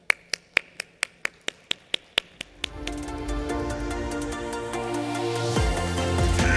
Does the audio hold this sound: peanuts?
no